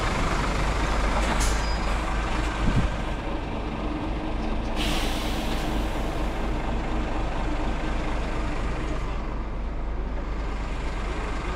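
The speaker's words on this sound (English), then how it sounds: "That van is coming through here." A van moves through a busy work site at shift change, its steady engine rumble close by and continuous, with a brief hiss like an air brake partway through.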